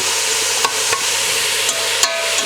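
Onions cooking in olive oil in a pan for French onion soup, giving a steady soft sizzle with a few faint clicks of stirring, close by and without voices.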